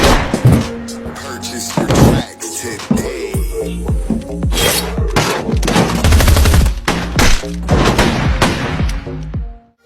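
Repeated sharp gunshots and bursts of gunfire ring out in a tense bank-robbery film scene, loud and close, mixed with slams, impacts and a busy soundtrack.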